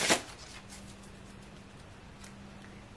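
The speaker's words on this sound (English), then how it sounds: "let's go ahead and give a quick little shuffle again" A deck of playing cards gets a quick shuffle, one short riffling burst at the start followed by quiet handling and faint background hum.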